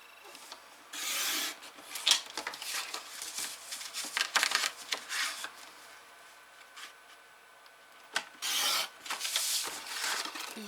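Scissors cut marks into a paper page for a mini folio, producing a series of close, crisp rasping snips and rustles separated by quiet pauses.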